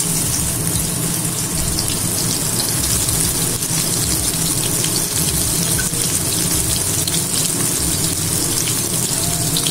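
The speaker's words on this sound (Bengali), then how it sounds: "প্রথমেতে আমি করলাগুলোকে ভেজে নেব, আমি একটু নুন আর হলুদ মাখিয়ে ভেজে নিই।" Bitter gourd rubbed with salt and turmeric fries in mustard oil, giving a loud, steady, close sizzle that fills the whole stretch without a break.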